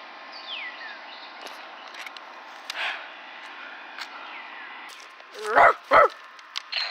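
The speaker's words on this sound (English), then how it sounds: "I heard the dogs." Dog barking outdoors: two loud, close barks in quick succession near the end, preceded by fainter yips and bird chirps over a quiet wooded background.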